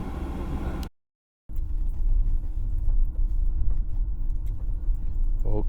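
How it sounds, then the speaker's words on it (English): A car drives along a road toward the Lancelin sand dunes near Perth, Australia, its steady engine and road rumble heard from inside the cabin, with a brief dropout of silence near the start. "Okay, now I'm driving a bit more further directly to the sand dunes area."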